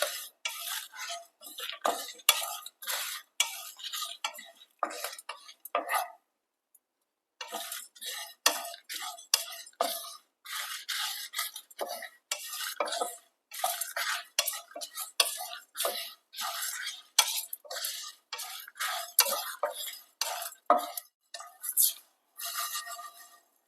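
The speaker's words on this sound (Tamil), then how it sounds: "பட்டை, கிராம்பு, ஏலக்காய், வரமிளகாய், கருவேப்பிலை எல்லாத்தையும் சேர்த்து நல்லா வாசனை வர்ற அளவுக்கு வறுத்து எடுத்துக்கலாம்" Whole cinnamon, cloves, cardamom, dried red chillies and curry leaves dry-roasting in a pan for mutton thanni kuzhambu, with steady rapid scraping and stirring clinks and rattles, close and fairly loud, pausing briefly partway through.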